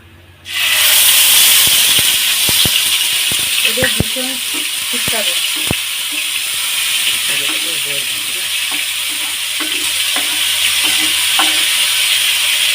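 Tomato puree sizzling loudly in a hot pan over a black cumin tempering for a Bengali fish curry, a steady bright hiss with scattered sharp pops and scraping stirs throughout, close and continuous.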